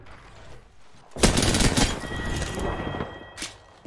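Bursts of rapid automatic gunfire from an Apex Legends match, loud and close, starting abruptly and rattling on for a couple of seconds before a final shorter burst.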